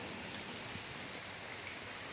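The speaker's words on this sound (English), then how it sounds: "it's raining. I'm at a shelter. And it's supposed to rain all day" Rain falls steadily around a trail shelter on the Appalachian Trail, a soft, even hiss of drops heard alone and fairly faint.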